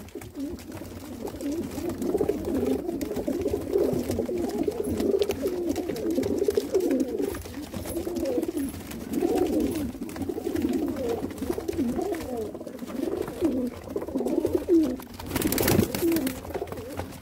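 A large flock of around a hundred pigeons at a sale in Jammu coo continuously, a dense overlapping murmur of throaty calls throughout, steady and fairly close.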